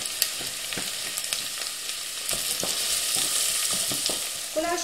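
Diced onions for Hungarian goulash frying in a pan, bright close sizzling with repeated stirring scrapes and clacks of a utensil, no talking.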